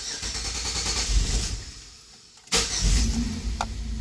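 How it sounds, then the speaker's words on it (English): The engine of a 2005 Chevy Equinox cranks and catches with a sharp burst, then settles into a loud, steady idle close by, following a stretch of running mechanical noise. "So now what we're going to do is we're going to start the car"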